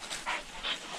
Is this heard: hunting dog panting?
yes